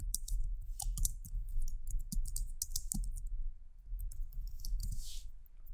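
Someone types on a computer keyboard at close range, with a sequence of irregular key clicks and taps and a brief pause near the end.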